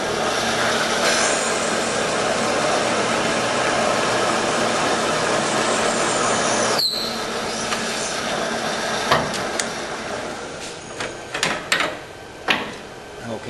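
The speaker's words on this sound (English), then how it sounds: "we're installing a reamer so that we can precision ream the guide for a new valve guide" A reamer precision-machines a valve guide in a 324 Oldsmobile Rocket 88 cylinder head, giving a steady broadband whirring grind for about seven seconds, then a sharp clatter and scattered knocks as the cutting stops.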